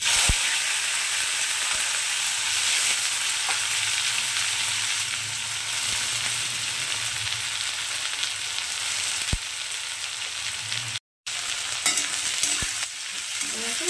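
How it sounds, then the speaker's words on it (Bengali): Bitter gourd pieces tipped into hot oil over a mustard seed tempering fry with a loud, continuous sizzle and the rustle of stirring, one brief dropout near the end. "তো ফোড়নটা হয়ে গেছে, এবার দিয়ে দিচ্ছি উচ্ছেগুলো।"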